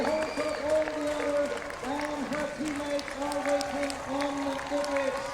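Spectators applaud at the finish of the 10MILA 2022 women's orienteering relay, a soft continuous patter of clapping and crowd noise running beneath a commentator's steady voice throughout.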